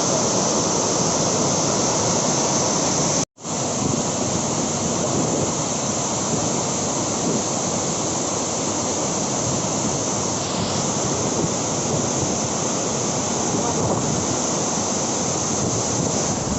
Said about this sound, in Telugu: ఇది ఒక వాటర్ ఫాల్ అయితే కాదు చాలా వాటర్ ఫాల్స్ని ఇందులో మిక్స్ చేసి ఒక్క చోట పెట్టినట్టుంది